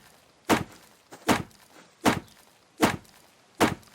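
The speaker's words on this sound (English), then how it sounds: "if you want to be a dick too, you can kind of beat on their other wall a little bit" Five heavy, evenly spaced thuds of a player beating on a wooden wall in the video game Subsistence, each a loud dull knock about three quarters of a second apart, with no talking.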